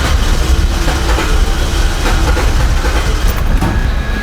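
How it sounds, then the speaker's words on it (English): Starter on a 2003 Mazda Protege 5 cranks the engine continuously without it catching, a loud, steady, rhythmic mechanical churn running throughout with no talking. "It will crank and it acts like it's trying to start, but it definitely isn't starting"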